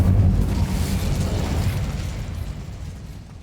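The Incendio fire spell is cast in Hogwarts Legacy, giving a loud, deep whooshing burst of flame. It rumbles heavily at first, then slowly fades away over a few seconds.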